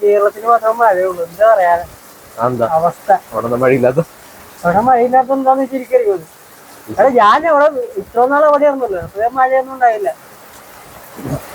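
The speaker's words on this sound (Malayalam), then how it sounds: "മഴ കിട്ടി ഗൈസ് മഴ കിട്ടി" Steady rain patters in the background while someone talks loudly and excitedly almost the whole time.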